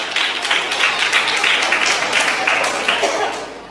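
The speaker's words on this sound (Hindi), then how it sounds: "आपकी जोरदार ताली" Loud, sustained audience applause for a poet at a Hindi comedy poetry show, dense clapping that rises quickly and holds steady for several seconds before tapering slightly at the end.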